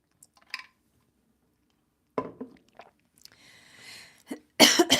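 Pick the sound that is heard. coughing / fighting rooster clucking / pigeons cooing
coughing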